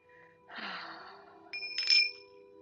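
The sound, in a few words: tingsha bells ringing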